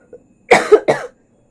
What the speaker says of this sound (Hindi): इतना खांसी हो रहा है क्या बताए।